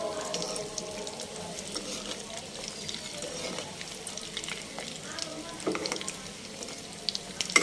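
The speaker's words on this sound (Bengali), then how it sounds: "তো এটা আমি গরম গরম ভেজে নিতেছি।" Cheese-stuffed chicken meatballs frying hot in a pan, a steady close sizzle with occasional louder pops and spatters, no talking.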